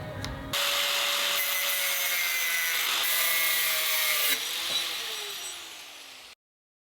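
A rocket part being cut down with a saw or cutting tool, a loud continuous rasping, grinding cut lasting several seconds close up, then stopping abruptly, with no talking.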